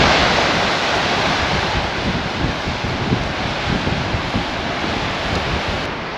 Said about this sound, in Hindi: नीचे ये ग्लेशियल रिवर है जो फ्लो कर रहा है